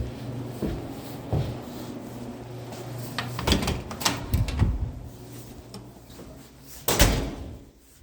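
A door bangs and clatters several times, with sharp knocks and a louder slam near the end, heard close over a steady hum and murmur of room noise.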